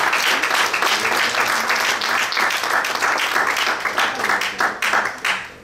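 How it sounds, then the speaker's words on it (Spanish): A church congregation applauds for the Lord, a dense, sustained wash of many hands clapping close and loud, thinning and tapering off in the final second. "Denle un aplauso al Señor."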